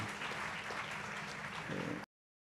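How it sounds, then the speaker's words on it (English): Audience at the official launch of Centres of Specialisation and a 4IR Lab at Gert Sibande TVET College giving steady, dense applause for about two seconds, heard fairly faintly, before it cuts off abruptly. "Let's give you a round of applause, ladies and gentlemen."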